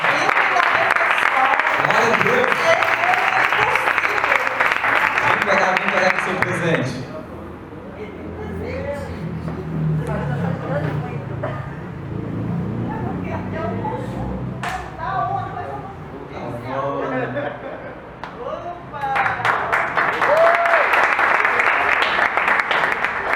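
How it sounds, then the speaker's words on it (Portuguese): A church congregation bursts into loud, dense applause that fills the opening seconds, fades under a stretch of talking and murmuring, then swells back into full clapping near the end. "Aplauda o Senhor pela vida da nossa irmã"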